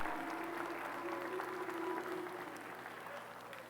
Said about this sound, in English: Ladies and gentlemen, would you give Cooper a nice big round of applause from the football team?